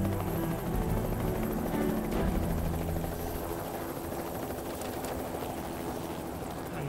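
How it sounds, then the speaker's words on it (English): Helicopter flying overhead in the zombie survival game Project Zomboid, a loud, continuous rotor drone and whirr sustained throughout, steady and close, with no talk. "Why is there massive like helicopter noise in the sky?"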